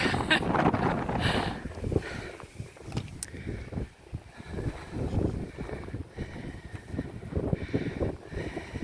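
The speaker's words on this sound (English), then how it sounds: "the wind beats me on that one" Wind buffets the microphone on a Pacific Crest Trail hiking path, loud gusty rumbles and rustling that surge and fade throughout, with faint sounds of movement.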